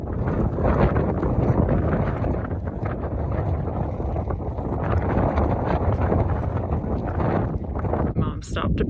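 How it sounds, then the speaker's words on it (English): Strong wind gusting on a bald mountain top along the Appalachian Trail at Max Patch, loud buffeting roar across the microphone throughout, with voices partly heard beneath it. "It's so windy."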